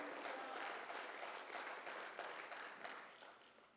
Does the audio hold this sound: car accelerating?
no